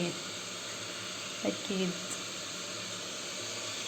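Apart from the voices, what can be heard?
chicken frying in a pan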